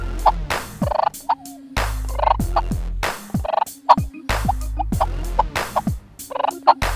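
Rhythmic series of soft purrs and sharp clucks made on a friction turkey call imitating a hen, repeated several times close and clear, with no talk.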